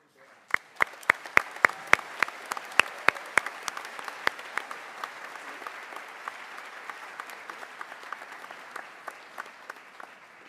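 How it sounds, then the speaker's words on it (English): An audience at a fifth-grade celebration applauds the school band: sparse, sharp individual claps ring out over a softer, thinning wash of clapping that tapers off over ten seconds. "if we can have another round of applause for our amazing band"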